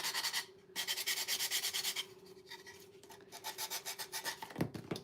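An electric sander works on a wooden primitive snowman craft piece, giving a rhythmic, pulsing rasp of back-and-forth strokes, close and fairly loud with a brief pause.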